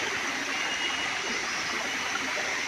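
Forest river stream in hill country flowing steadily, a continuous soft rushing wash of water at moderate distance with no other sounds standing out.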